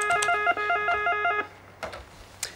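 A telephone rings in a quick repeated trill pattern for over a second, followed by a few soft clicks and handling noises in a quiet room.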